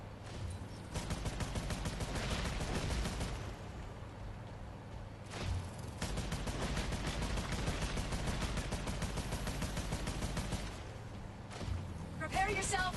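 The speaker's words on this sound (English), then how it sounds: "This is where the shooting comes in. Weapons overheated!" Rapid weapon fire from the Scavengers Odyssey game in PlayStation VR Worlds, dense repeated shots running almost continuously with a short break midway, loud and close, with game voices talking over it.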